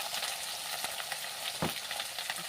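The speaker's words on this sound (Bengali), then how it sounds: "তেলের মধ্যে দিয়ে এখন মশলাটা করে ভাজে নেবো" Cumin seeds and spices fry in hot oil for a vegetarian curry made without onion or garlic, a soft continuous sizzle with occasional stirring scrapes and crackles.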